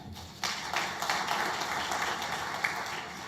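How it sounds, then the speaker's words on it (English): Ceremony audience at an anniversary opening bursts into applause, a sudden onset of dense, sustained clapping that holds steady across the hall at moderate volume without speech. "I urge you to sustain that applause"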